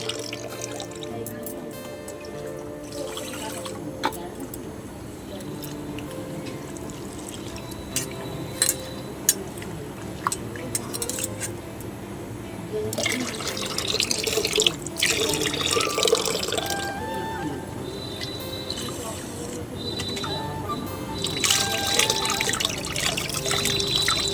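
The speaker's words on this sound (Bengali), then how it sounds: "আর একদিকে ডালটা একটু ধুয়ে নিচ্ছি" Lentils are rinsed in water in a home kitchen, with running and splashing water, drips and light clatter that grow louder and busier toward the end, while a voice is heard in the background.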